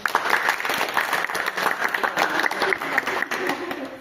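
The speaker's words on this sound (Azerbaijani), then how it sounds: "Özünüzü alqışlayın." A live audience applauds at a small business-training event for martyrs' families and war veterans, a steady, dense wash of clapping that holds fairly loud for several seconds without a break.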